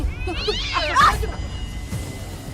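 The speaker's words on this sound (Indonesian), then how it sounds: "Dikirain tuyul, nggak taunya kucing" A cat meows loudly and close by in a rising, drawn-out wail, followed by a softer trailing cry, over a low background hum.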